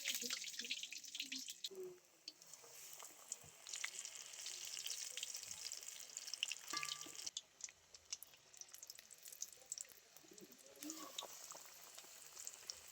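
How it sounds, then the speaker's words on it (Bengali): Besan-dipped hincha greens pakoras dropped into hot white oil, a faint bubbling frying hiss with scattered clicks and small knocks, fading and returning over several seconds. "বেসনের মধ্যে ডুবিয়ে তেলের মধ্যে ছেড়ে দেব।"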